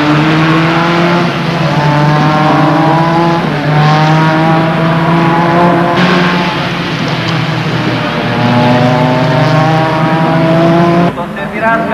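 Renault Megane Cup race cars roar around Monza on a reconnaissance lap, engines rising and falling through repeated upshifts and passes, loud and close, with a commentator talking over the engine noise.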